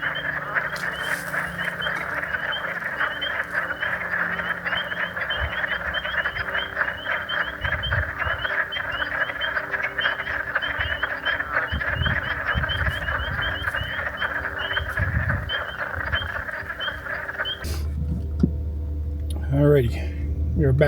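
Frogs call from a swampy spring wildlife refuge marsh in Delaware, a dense steady chorus of croaks and trills running for most of the stretch before cutting off near the end, with a low rumble and some talk over it.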